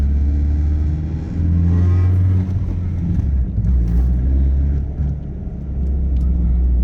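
A 1998 Dodge Neon R/T heard from inside while cruising on the highway at about 55 to 60 mph, with a loud, steady low engine and road rumble that swells slightly at times.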